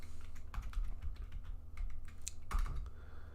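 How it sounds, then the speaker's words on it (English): Quiet typing on a computer keyboard, a burst of irregular soft key clicks and taps with a brief pause in the middle, close up and without any voice. "I'm going to type some things out in chat now."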